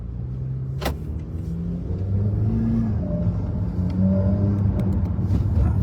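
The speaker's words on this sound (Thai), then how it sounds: "ฟังเสียงรถหรูๆเสียงก็ต้องเท่ ๆ" A Honda Accord ninth-generation (G9) car engine idles steadily with a low rumble, rising slightly in level partway through, with one brief sharp click near the start and no talking over it.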